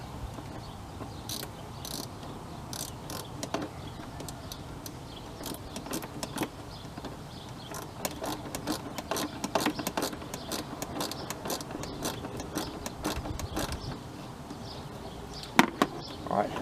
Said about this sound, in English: So now we'll tighten that upper hose clamp.